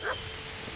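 A dog in the medieval video game Kingdom Come Deliverance gives a single short bark or yip right at the start, quiet and a little distant, followed by low background ambience.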